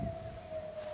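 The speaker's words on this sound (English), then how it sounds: "You can hear the tornado sirens in the background." A distant tornado siren during its monthly noon test holds a steady tone, faint beneath wind and outdoor rumble.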